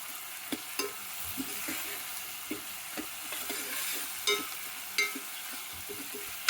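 Vegetables frying in a thick steel pot, a faint sizzle with intermittent scraping and stirring knocks from a spatula, close and fairly quiet.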